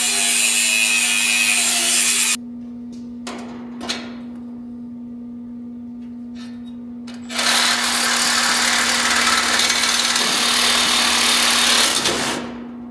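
Loud rasping saw strokes with a dull blade cut through wood in two long bursts separated by a quieter pause with a few light knocks and scrapes.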